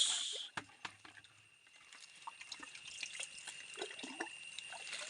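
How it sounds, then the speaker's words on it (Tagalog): Soft splashing and trickling water patters unevenly close by as cucumber and chili plants are watered, with scattered small drips and splats over a faint steady background hiss. "At sisimulan na nating diligan."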